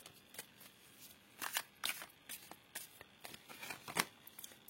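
Tarot cards are shuffled and cut in a series of crisp riffling bursts and soft slaps, irregular and close, with no talking.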